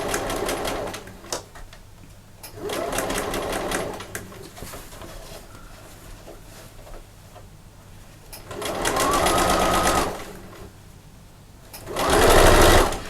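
A sewing machine stitches fabric for a machine cover, running in three short bursts with quieter pauses between them. No one speaks.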